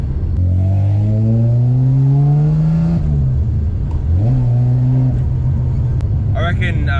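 A Nissan R31 Skyline fitted with new budget S13 coilovers accelerates and shifts through gears, its engine note climbing loud and close with a rattle from the rear, and someone talks briefly near the end.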